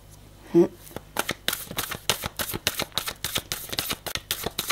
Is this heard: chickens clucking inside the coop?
no